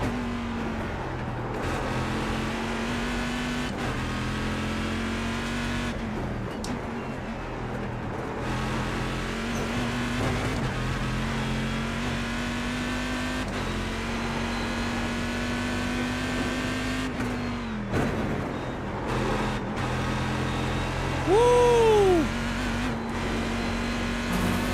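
Race car engine in the iRacing sim, a steady high-pitched drone holding at sustained revs for most of the run, briefly dipping and rising again as gears shift, with a short whooping sweep near the end.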